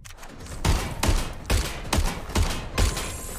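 Gunfire in the video game Watch Dogs Legion: six loud, evenly spaced bursts of shots about half a second apart, each with a heavy thump.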